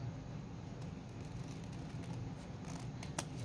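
Scissors snip through paper index card in a few quick close cuts, clustered near the end of a quiet, steady background with no talking.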